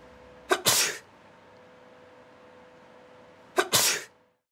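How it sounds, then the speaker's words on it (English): Two forceful human sneezes, each with a quick inhaled catch before the burst, spaced about three seconds apart in a quiet room during a droplet experiment. "First, sneezing."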